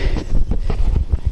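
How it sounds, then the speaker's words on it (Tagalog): Outdoor wind on a rural farm buffets the microphone in a low, gusty rumble that swells and eases, with no voices. "Sarap ng simoy ng hangin dito mga kababayan."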